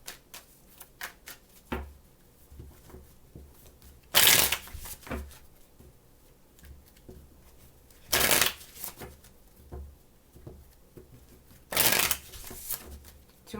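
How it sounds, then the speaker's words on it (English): Tarot cards shuffled in three loud, dense bursts of riffling, each about a second long, with quiet pauses and soft handling clicks between them. "Two more shuffles."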